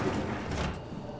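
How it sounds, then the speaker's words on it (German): A door closing in the video game Soma gives a soft sliding whoosh followed by a muted thud that fades into quiet ambience, heard alone without talk. "ich mache erstmal die Tür zu"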